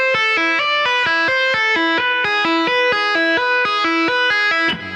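Electric guitar with distortion and effects picks a fast, evenly repeated riff of short notes in a steady rhythm, loud and close, ending on a brief scrape at the finish.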